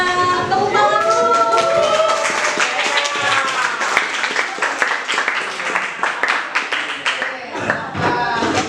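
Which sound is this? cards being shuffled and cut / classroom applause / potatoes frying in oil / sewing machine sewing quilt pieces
classroom applause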